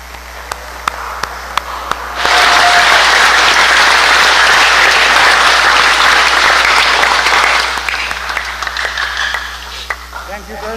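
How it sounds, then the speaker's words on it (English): A large audience applauds at the opening ceremony of the Kamorale Expo 2026, a dense roar of clapping that swells suddenly, holds loud for several seconds, then thins out into scattered claps. "May we all give a round of applause."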